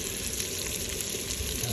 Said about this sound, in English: A nice little sizzle going on there.